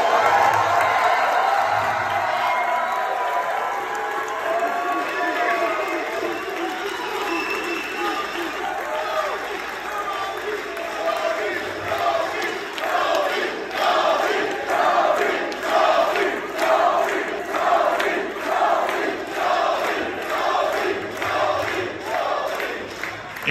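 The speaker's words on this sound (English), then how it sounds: "Let these people cheer for you one more time." A crowd at a wrestling event cheers and shouts loudly and continuously, swelling into rhythmic chanting and clapping pulses that fill the arena for over twenty seconds.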